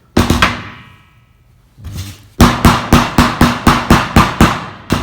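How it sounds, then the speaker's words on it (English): A ball peen hammer strikes metal with sharp ringing blows, making dimples: a few quick hits, a pause, then a steady run of about ten evenly spaced strikes. "taking a ball peen hammer"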